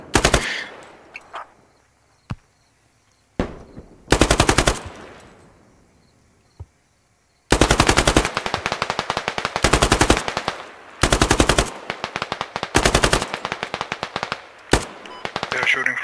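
RPK light machine gun with an ACOG scope firing in the military shooter game Squad, loud close bursts of rapid automatic fire broken by single shots and short pauses.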